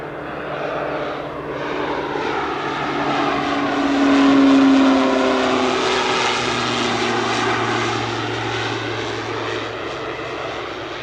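A fixed-wing propeller aircraft lands at Spirit of St. Louis Airport on runway 8 right. Its engine drones steadily throughout, swelling slightly midway as it passes close by, with no talk over it.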